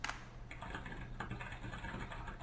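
Computer keyboard typing, added as a sound effect to an animation, gives a continuous patter of quiet, quick keystrokes at low volume.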